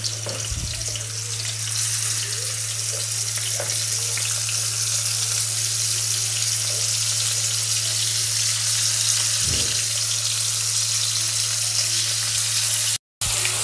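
Onions fry in hot oil with a loud, continuous sizzling hiss for the whole stretch, a steady low hum beneath and a couple of soft knocks, cutting out abruptly for a moment near the end.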